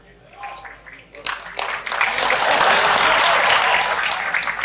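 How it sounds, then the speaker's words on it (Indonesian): Speech and scattered noise give way to a broad wave of audience applause at an Islamic religious gathering, the clapping rising quickly and staying loud and steady to the end. "Tepuk tangan semuanya."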